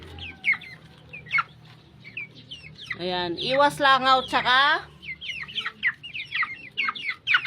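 Pet chickens kept in a raised cage cluck loudly in a burst of rapid, close calls in the middle, with someone talking before and after.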